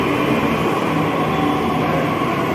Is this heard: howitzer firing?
no